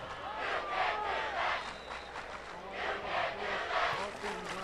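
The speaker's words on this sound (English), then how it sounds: "Crowd in full force tonight." A large high-school football stadium crowd at a night game roars and cheers in a sustained, rolling wash of voices, with announcer-like talk faintly woven in.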